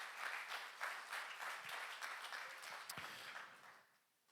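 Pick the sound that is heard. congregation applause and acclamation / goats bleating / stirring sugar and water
congregation applause and acclamation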